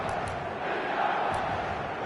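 Dense stadium crowd roar in an eFootball video game, a steady loud wash of chanting and cheering voices that fills the whole moment without pause.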